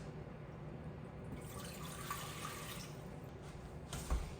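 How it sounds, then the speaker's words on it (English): Water runs steadily into a cooking pot on a stovetop as it is filled for cooking gluten-free ramen, a continuous soft hiss of flowing liquid with a small splash near the end, no talking. "I'm gonna turn this on high and add my water."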